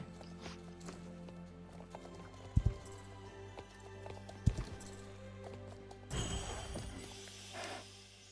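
Rhythmic hoofbeats of a Belgian Warmblood horse galloping in a video game clatter at a quick pace with a few heavy thuds, over a low background hum, growing noisier and busier toward the end.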